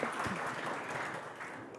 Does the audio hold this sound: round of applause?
yes